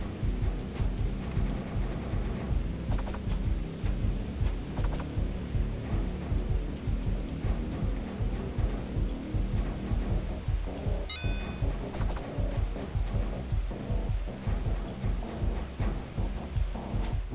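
Steady heavy rain pouring continuously in the video game David Get Keen, with low rumbling underneath and a brief electronic chirp partway through, no talking.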